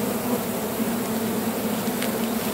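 Swarm of European honey bees buzzing in a steady, dense drone, close and continuous throughout with no voices.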